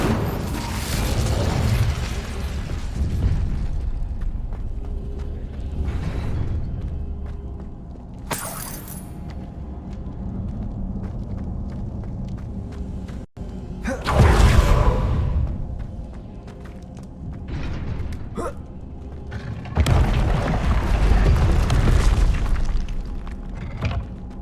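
Incendio fire spell blasts in the video game Hogwarts Legacy, several loud bursts with whooshing flares and booming impacts, spaced apart over a rumbling background of combat sounds.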